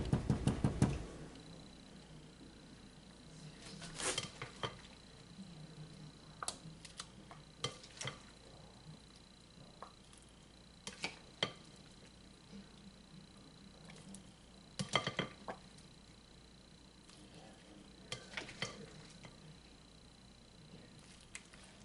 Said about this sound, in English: And now we're going to put our warm apple slices in.